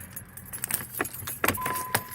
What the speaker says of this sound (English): Take the key out of the ignition